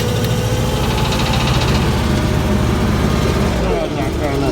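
The diesel engine of a Bobcat 632 skid steer loader runs just after a cold start with a steady, loud, rough idle that continues throughout, with people talking over it.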